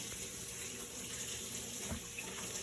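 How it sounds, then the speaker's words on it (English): Hands are washed under a running kitchen tap, a steady loud stream of water hissing into the sink with small splashes as the hands move, close and continuous. "my mom's washing her hands"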